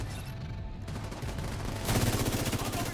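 Rapid automatic gunfire in The Division 2, dense bursts of shots that start softer and grow louder and more continuous, with no voices over them.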